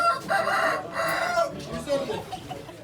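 A rooster crows loudly nearby at a chicken and rooster auction in Ankara, its drawn-out call repeating, with people talking in the background.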